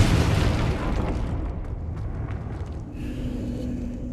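A Confringo fire spell bursts in the wizarding game Hogwarts Legacy with a loud, broad blast right at the start, then a rumbling tail that fades gradually over several seconds, leaving a low steady hum.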